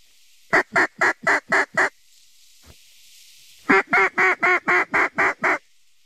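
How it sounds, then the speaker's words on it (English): Ducks flying overhead quack in two quick bursts of rapid, evenly spaced calls, loud and close, separated by a short quiet pause. "There are so many ducks in the air."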